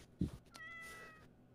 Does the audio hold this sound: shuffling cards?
no